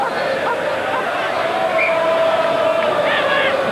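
A large rugby stadium crowd at a 1995 World Cup pool match between Scotland and Ivory Coast makes a loud, continuous roar and babble of voices, steady throughout with scattered shouts rising above it.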